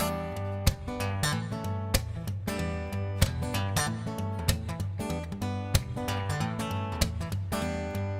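Funky guitar rhythm with choppy muted strums and sharp accented backbeat hits, playing alone in a steady groove.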